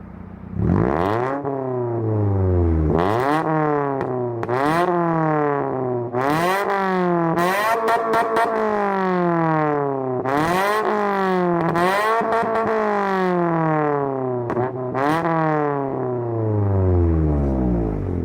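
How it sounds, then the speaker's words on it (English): A Honda Civic's loud exhaust crackles and drones through repeated rev-and-shift cycles, each pull rising in pitch then dropping, loud and close throughout. "Dog shit exhaust, Honda Civic, perfect harmony."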